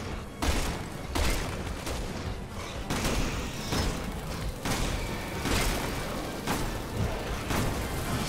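Sustained rapid gunfire from the video game Resident Evil 6, aimed at a bug creature, with repeated loud bursts and booming shots across the whole stretch.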